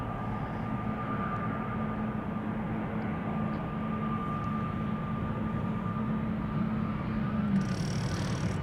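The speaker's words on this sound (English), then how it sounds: "SAS coming this way, A320neo." An SAS Airbus A320neo at Amsterdam Schiphol Airport gives a steady, broad engine roar for the whole stretch, holding an even loudness with no voices over it.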